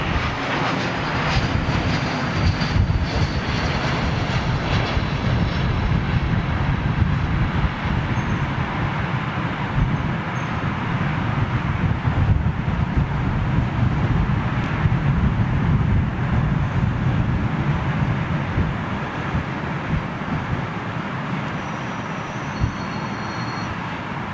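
A Middle East Airlines (MEA) jet airliner at London Heathrow gives a steady, loud, broad engine roar that holds for the whole stretch, with no talk over it.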